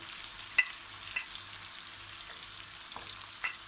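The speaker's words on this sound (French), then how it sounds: "Je vais mettre le beurre. Donc attention aux projections quand vous mettez le beurre." Butter hitting hot caramel gives a soft, steady hiss with a few small crackles and pops, fairly quiet and without voices.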